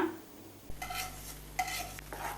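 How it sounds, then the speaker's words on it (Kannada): Roasted semolina is stirred into hot milk for almond rava burfi, with quiet scraping spoon strokes against the pan in a few short bursts over a low background hum. "ಚೆನ್ನಾಗಿ ಕಲಿಸ್ಕೊಳ್ಳೋಣ, ಗಂಟಿಲ್ದಿರಂಗೆ. ಗಂಟೆ ಆಗಬಾರ್ದು. ನಿಧಾನವಾಗಿ ಕೈ ಆಡಿಸ್ಕೊಂಡು ಚೆನ್ನಾಗಿ ಕಲಸೋಣ."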